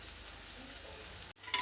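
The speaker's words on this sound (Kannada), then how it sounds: "ಈ ಥರ ಚೆನ್ನಾಗಿ ಕೈಯಾಡ್ಕೊಳ್ತಾ ಇರಿ." Cluster beans dry-roasting in a pan while being stirred, giving an even, soft sizzling hiss throughout, with a brief gap and a faint clink at the very end.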